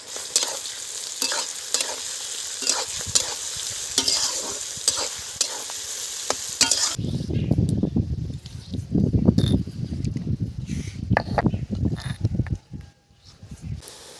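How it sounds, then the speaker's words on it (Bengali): Sliced onions fry and are stirred in a pan with cardamom, cloves, cinnamon, cumin and a pinch of salt. A steady bright sizzle runs with repeated scraping stirs, then settles into a lower, bubbling fry with clattering movements, close and alone. "এলাচ লবঙ্গ দারচিনি জিরে ফোড়নে দিলাম একটু নুন দিয়ে দিলাম পেঁয়াজের ওপরে"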